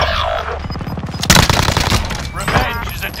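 Video game gunfire in a battle royale match: a rapid, loud burst of automatic shots, followed by more scattered firing and echoing booms, with a voice speaking over the start.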